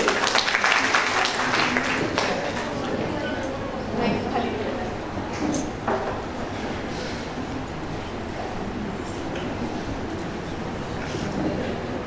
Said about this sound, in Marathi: एक जर जोरदार टाळ्या होऊन जातात मावशींसाठी